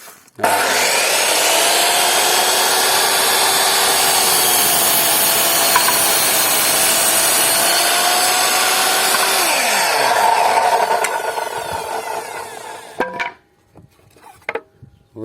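A Yato YT-82170 power saw cuts through a 70 by 114 board, a loud steady whine with a lowering pitch held for about nine seconds, then winding down into a few clunks and knocks.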